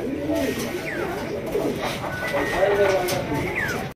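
Racing pigeons of Janssen bloodline coo softly over a steady background hum, with a few chirps and voices talking nearby.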